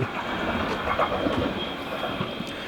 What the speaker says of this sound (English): We got a train as well now.